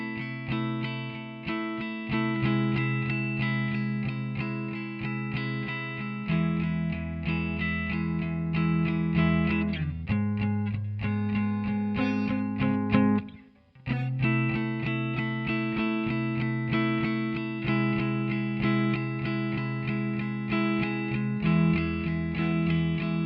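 Electric guitar played through effects with distortion and chorus, section 1 of a song: a steady, sustained riff with a thick harmonic tone, one brief dip near the middle, and no voices.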